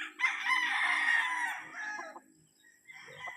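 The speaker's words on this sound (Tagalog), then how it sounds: "Ito, magandang manok to." A Grey Kelso gamecock rooster crows loudly and close by, one long drawn-out call that trails off, followed by a few faint clucks.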